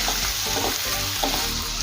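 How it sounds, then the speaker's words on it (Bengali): Ground spices, including cumin and coriander powder, stirred in a hot pan for Odisha-style aloo dum. They give a steady close sizzle with soft scraping strokes throughout, and no voices. "সব মশলা খুব ভালোভাবে নেড়ে চেড়ে মিশিয়ে নেব"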